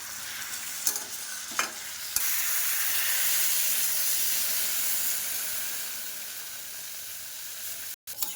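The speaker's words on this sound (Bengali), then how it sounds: "এবার এর ভেতরে জল দেবো।" Water goes into a hot pan of fried ingredients for a curry, and after a few light clicks it bursts into a loud, steady hissing sizzle that slowly fades.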